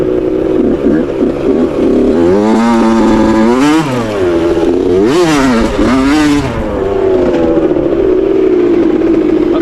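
A 2001 Suzuki RM 80 two-stroke dirt bike fitted with a 2003 RM 85 cylinder revs loudly and close, its engine pitch climbing and falling through repeated sharp throttle blips over a steady buzzing idle.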